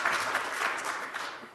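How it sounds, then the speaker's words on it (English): Applause from an audience at a business talk on B2B marketing, a short burst of dense, moderately loud clapping that quickly thins out. "That's worth a round of applause, right?"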